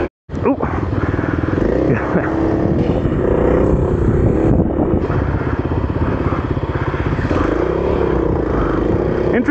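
A Kawasaki KLX300 dirt bike engine is ridden hard off-road, with a loud, close, continuous engine drone rising and falling as it revs, plus rattles and clatter from the trail.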